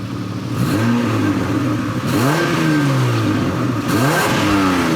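A Mitsubishi Galant 2.5 V6 revs repeatedly through a loud exhaust, pitch climbing and falling in several close, throaty bursts with no talking.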